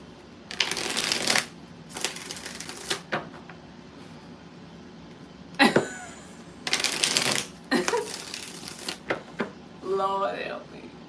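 Several quick bursts of tarot cards being shuffled close by, riffling in short clusters separated by brief pauses.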